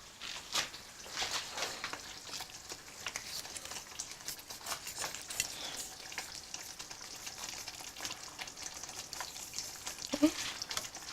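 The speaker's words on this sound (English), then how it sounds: "you put your noodles inside. I'm going to put bit by bit, just to blanch" Noodles dropped bit by bit into boiling water on a lowered flame for Malaysian curry mee, giving a steady bubbling, sizzling wash with faint stirring clatter throughout.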